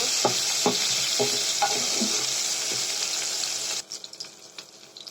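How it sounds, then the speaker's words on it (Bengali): Onions frying in hot oil in a home kitchen for a chicken and potato curry, giving a steady bright sizzle with soft stirring scrapes early on, then quieter after a few seconds. "এবারে ওই তেলের ভিতরে আমি পেঁয়াজ দিয়ে দিলাম পেঁয়াজগুলো কালার চেঞ্জ হওয়া পর্যন্ত আমি অল্প কিছুক্ষণ ভেজে নেব"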